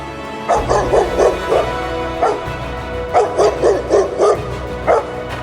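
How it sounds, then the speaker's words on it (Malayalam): A cartoon puppy in an animated children's story barks loudly, bursts of quick yapping barks repeating close up across the scene. "ഉച്ചത്തിൽ കുരച്ചുകൊണ്ട് സ്കൂൾ പരിസരത്തൊക്കെ റിങ്കു ഓടി നടന്നു"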